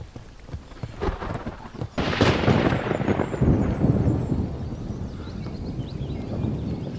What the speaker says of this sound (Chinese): 怎么晴天打雷了？